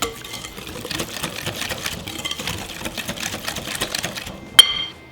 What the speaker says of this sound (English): I'm just going to use a whisk.